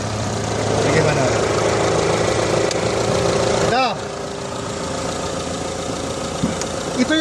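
A Mitsubishi Adventure engine idles with a steady mid-pitched rumble and light knocking vibration, loud and close, briefly dipping midway before settling back into its even running hum.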